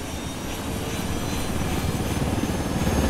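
A helicopter's steady engine roar and rotor drone in the video game Ghost Recon Wildlands, constant and fairly loud, slowly building over a few seconds with no voices.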